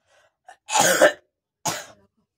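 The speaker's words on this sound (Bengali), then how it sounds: "এই দেখো কাশিটা দেখো, দেখেছো?" One person coughs close to the mic from a bad cold: a harsh double cough followed by a shorter single cough, in a quiet room.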